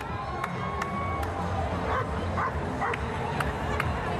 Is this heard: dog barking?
yes